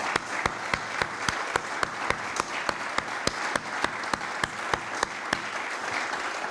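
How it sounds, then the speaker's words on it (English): A conference audience applauds sponsors at a 2005 gold conference: dense, steady clapping from a crowd throughout, with sharper individual claps standing out in a regular rhythm near the microphone. "But if you could give them a round of applause,"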